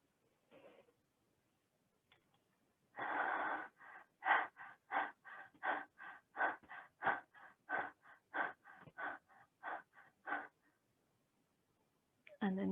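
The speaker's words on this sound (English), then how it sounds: "stick your tongue out and breathe in and out with the tongue held out. It's like almost like panting, like a dog" A yoga student pants rhythmically with the tongue held out, as in a breath-of-fire style exercise: about twenty quick, even, breathy huffs in a steady run, close and fairly loud, starting after a short pause.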